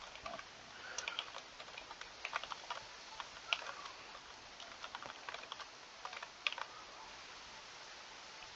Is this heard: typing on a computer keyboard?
yes